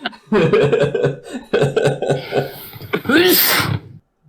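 Breathy vocal noises lead into one forceful sneeze near the end, loud and close, followed by silence.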